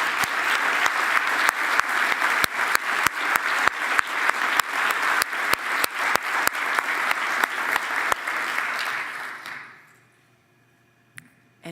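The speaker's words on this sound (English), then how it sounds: "Would you please acknowledge them with a round of applause?" Round of applause for faculty at a scholars awards ceremony: a sustained, even crowd clapping with sharp rhythmic thumps throughout, fading out near the end into near silence.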